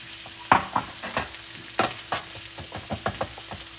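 Onions cooking in melted butter in a pan for a country breakfast, with scattered scraping and stirring clicks over a soft, steady frying hiss, fairly close and moderately quiet.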